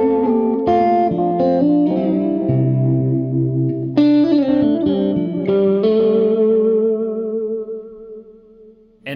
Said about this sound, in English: I can turn the volume pedal all the way up and it'll be more distorted.